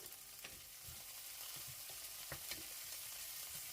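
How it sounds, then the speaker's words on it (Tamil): Red onion frying in oil for a Sri Lankan fish curry, a faint continuous sizzle dotted with light stirring taps and scrapes, no speech. "இப்போ பாருங்க வெங்காயம் பதங்கி விரட்டும்"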